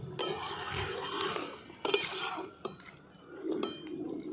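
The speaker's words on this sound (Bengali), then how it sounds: "আলুটা দিয়েও একটু নাড়াচাড়া করে নিচ্ছি" Fried potatoes are stirred in a pan for a home-style potato, egg and rice dish, with a few sharp clinks and scrapes of the utensil against the pan between softer shuffling stirs.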